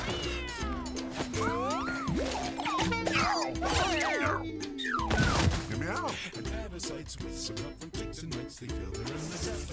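Cats meow repeatedly in the video game Mewgenics, rising and falling cries stacking over a game soundtrack, with a person speaking under parts of it and a few sharp impacts near the end.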